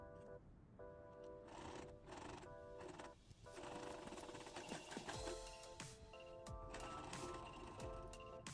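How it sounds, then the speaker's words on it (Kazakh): A sewing machine stitches around the edge of a patchwork quilt block in quick, rattling bursts separated by short pauses, heard up close with no talking. "Енді шетін айналдырып тігіп шығатын боламыз."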